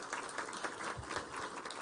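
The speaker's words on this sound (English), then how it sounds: "Let's clap for her as she comes." An audience applauds steadily at a ministerial meeting in Nairobi as the World Food Programme director walks to the stage. The clapping is a dense, continuous wash of many hands, moderately loud and with no break.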